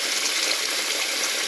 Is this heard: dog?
no